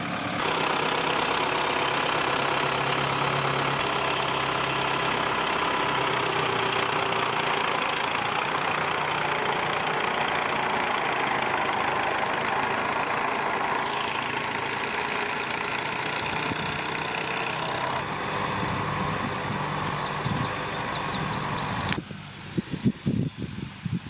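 A tractor pulling a disc harrow through farm soil runs steadily at a low, rumbling drone for a long stretch, close by, with clanking and bumps near the end.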